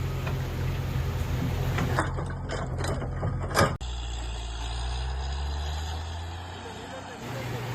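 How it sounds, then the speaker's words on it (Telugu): A borewell rig truck's heavy diesel engine rumbles steadily up close, with a sharp clunk midway, then settles into a low, even drone. Voices may be faintly present under the machinery. "బండి అయితే స్టార్ట్ అయింది ఫ్రెండ్స్"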